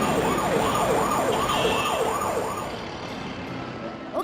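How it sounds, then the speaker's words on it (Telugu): An ambulance siren wails in a steady rising and falling cycle, fairly loud over road noise, then fades toward the end. "వచ్చింది అంబులెన్స్."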